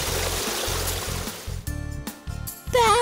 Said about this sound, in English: Bath water!